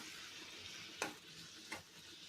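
Cooked moong dal rice being mixed into a pot, with a low sizzling bed and two distinct scraping strokes of a spoon against the vessel, heard close and fairly faint.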